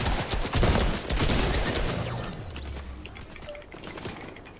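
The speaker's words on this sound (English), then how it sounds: "Watch out, they're shooting from above." Rapid bursts of Fortnite gunfire crackle loud and close, dense volleys in the first two seconds thinning into scattered shots and a lingering rumble with no voices.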